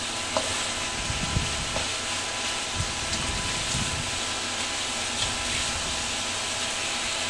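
Ampalaya and meat sizzle steadily in a hot pan, a constant frying hiss with scattered soft scrapes and knocks from stirring, close and even throughout.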